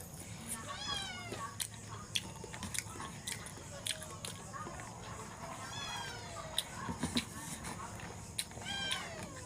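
Cat meowing repeatedly while being fed fish: several short rising meows scattered across the stretch, with chewing and bite-like clicks in between, faint and close, while someone talks quietly underneath.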